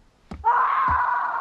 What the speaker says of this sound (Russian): Кто-то крикнул.